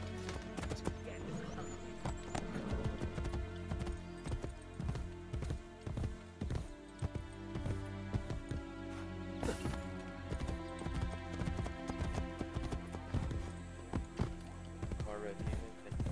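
A horse's hooves clip-clop steadily in Assassin's Creed Brotherhood, with an occasional whinny, game music and a player talking over the rhythmic hoofbeats.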